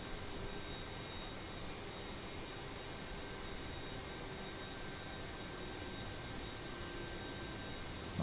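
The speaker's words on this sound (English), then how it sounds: "Nice takeoff, nice easy rotation." Broad, steady jet engine roar from an FSLabs A321neo airliner with LEAP engines during takeoff from Ibiza in Microsoft Flight Simulator 2020, a constant even rumble and hiss with a faint whine, alone.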